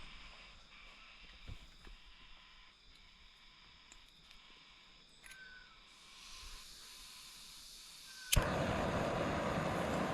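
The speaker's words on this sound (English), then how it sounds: "let's get that burner on and start cooking" A camping gas burner is lit for cooking, first some quiet handling clicks and faint hiss, then a sudden ignition followed by a loud, steady rushing hiss of the flame.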